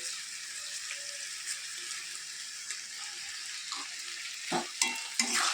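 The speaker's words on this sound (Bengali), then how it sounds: "ভালোভাবে নাড়াচাড়া করে নেব" Chutney with a cup of sugar added, stirred in a pan: a soft, steady low sizzle with faint scraping, growing into a few louder spatula knocks and scrapes near the end, no voices.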